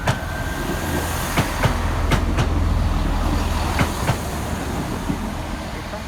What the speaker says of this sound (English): That is our train.